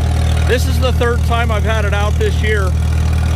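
A Farmall M tractor engine runs at a steady low idle, a constant near rumble under someone talking throughout.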